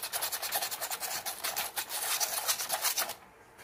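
Cloth rubbing over a rusty Japanese-made tin toy M4 tank, a steady close scratchy wiping with rhythmic back-and-forth strokes that stops abruptly near the end.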